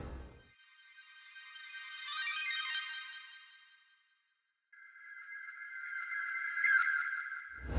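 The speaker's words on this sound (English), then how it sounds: "the two ARPs, or like the two synth sounds from Splice," Two bright synth arpeggio parts from a sample library, used in a trap beat: a high, fluttering pattern rises, fades out, and a second tonal arpeggio line follows after a short gap, with no voices.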